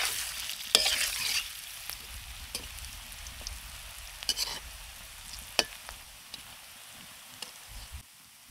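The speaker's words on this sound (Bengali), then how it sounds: "এভাবেই এপিট ওপিট ঘুরিয়ে ভেজে নেব।" Jackfruit koftas sizzle in shallow oil, a soft steady frying hiss broken by occasional clinks and scrapes as they are turned, fairly quiet and close with no talking.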